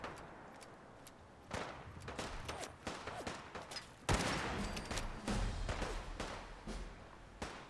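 Bursts of gunfire in the Fallout 4 video game, several loud volleys and scattered single shots firing in irregular clusters, with a heavier blast near the middle, and no talking.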